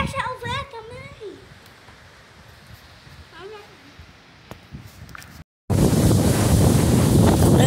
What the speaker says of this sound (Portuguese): Pense no vento.